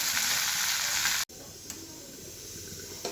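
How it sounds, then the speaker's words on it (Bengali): Meat frying in a pan before sauces go in for chilli chicken, a loud continuous sizzle that drops abruptly after a brief gap and carries on softer with small stirring ticks. "এই যে মাংসগুলো একটু ভেজে নেওয়া হচ্ছে এগুলোর সাথে।"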